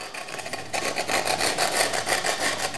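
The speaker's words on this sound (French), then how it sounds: "je peux râper légèrement les bords" Edges of a baked starter being lightly grated, a close, scratchy rasping that repeats in short strokes and grows louder partway through.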